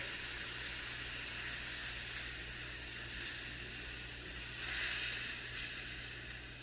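Liquid hits a hot pan during red beef enchilada prep and sets off a steady broad sizzle and hiss of steam that swells briefly near the end, close and alone with no talk.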